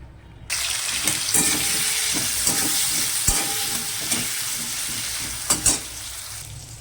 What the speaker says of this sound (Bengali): এদিকে দেখো বাঁধাকপি আলুটা ভাজা হয়ে গেছে